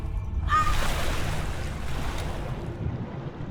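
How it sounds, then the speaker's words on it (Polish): Lara Croft plunges into Arctic sea water in Tomb Raider: Underworld, a sudden loud splash followed by a rushing, fading underwater wash and wave noise. "O, i teraz sobie do wody tutaj spadniemy."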